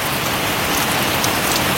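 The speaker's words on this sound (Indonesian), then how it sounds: "cukup deras ini hujannya." Heavy rain pours down outside a house in a forest in West Bandung, a loud, dense, unbroken wash of falling water close by.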